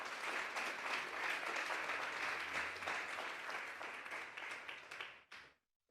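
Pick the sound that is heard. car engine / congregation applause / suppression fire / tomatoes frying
congregation applause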